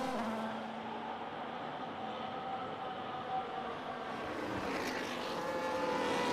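Race car engine droning steadily at a Spanish Grand Prix in a racing video game, a continuous mid-distance roar that rises slightly toward the end.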